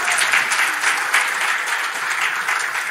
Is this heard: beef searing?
no